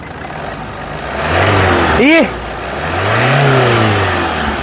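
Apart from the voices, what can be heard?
Toyota Etios VXD 2015 diesel engine revving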